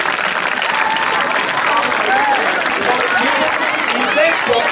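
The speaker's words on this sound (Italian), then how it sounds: "Un applauso per te." An audience at the Festa del Ciao 2015 finale claps in sustained, dense applause with scattered voices mixed in, an even roar that holds steady for the whole stretch.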